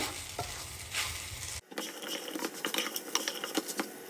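A spoon scrapes and stirs spiced raw banana fry in a pan, quiet clinks and scrapes running in a busy rhythm after a soft sizzle cuts off abruptly.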